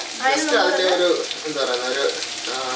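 Small shallots sauté in a pan for a spicy Kerala fish curry, sizzling and crackling up close while someone talks over the frying.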